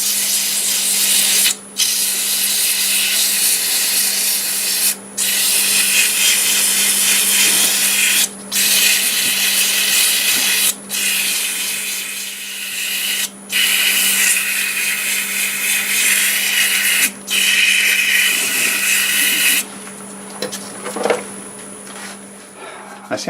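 Sandpaper at 120 grit rubs against hard ironwood spinning on a lathe run in reverse, making a loud, steady hiss broken by several brief gaps as the paper lifts off. The motor's low hum continues underneath, and the noise changes character near the end.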